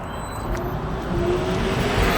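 A Neta V electric mini crossover accelerating, a low steady road and tyre rumble with a faint rising electric whine, heard from inside the cabin with no talking.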